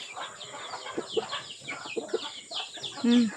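A rooster and hens on a free range farm around feeding time, giving short clucks and a few brief calls at close range, with a voice speaking between them.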